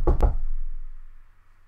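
Two sharp knocks on a door, close and loud, in a Prop Hunt game, followed by a fading low rumble and faint hum.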